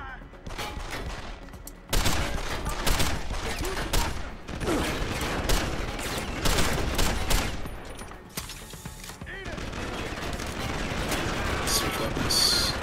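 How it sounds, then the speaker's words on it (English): Rapid video game gunfire in repeated bursts of automatic shots, loud and dense, with brief pauses between volleys and a reload-like mechanical clatter near the end. "I guess I'm shooting everybody"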